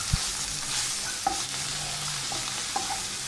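A spoon stirs a mushroom and flour mixture sizzling in a pan for mushroom croûtes, with a constant frying hiss and a few distinct knocks of the utensil against the pan, close up and without speech.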